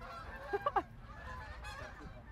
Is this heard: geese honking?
yes